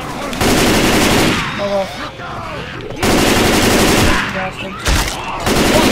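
Sustained bursts of automatic gunfire blast from zombie-killing in Left 4 Dead 2, loud and close, cutting out for short pauses before resuming, with a man's brief remark heard during a lull.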